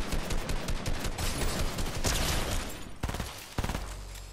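Rapid gunfire in a Fortnite Chapter 5 Season 4 Zero Build match, dense bursts of close, loud shots rattling almost continuously with brief gaps near the end.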